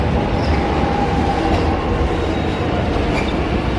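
A Mernda line suburban train rolls into a station platform, a steady loud rumble of wheels on rails with faint squeals, continuous and close throughout.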